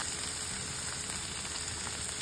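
Tomatoes and crushed garlic sautéing in a pan for pepper rasam, a steady, even hiss of frying at moderate volume with no stirring accents and no voices.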